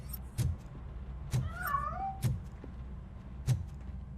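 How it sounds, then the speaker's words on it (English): A cat gives a short, rising meow amid a few dull thumps and a low background rumble. "That cat must be hiding inside."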